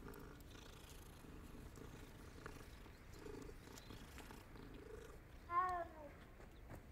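A pet cat purrs softly while being petted in Hogwarts Legacy, a faint low continuous rumble, with a brief louder mew-like sound near the end.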